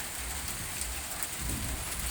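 Steady night rain falls at the Jami Lamahala mosque, a continuous even hiss of drops on surfaces with a low rumbling undertone and no voices.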